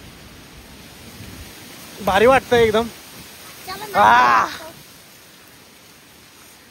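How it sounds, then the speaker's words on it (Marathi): Heavy rain falls outdoors as a steady hiss throughout, with a person speaking briefly over it in two short bursts. "पाऊस केवढा आलाय बघा"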